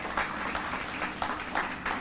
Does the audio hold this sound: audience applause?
yes